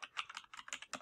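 Brief burst of typing on a computer keyboard while logging into Windows 10, quick irregular key clicks close up and fairly quiet, with no talking.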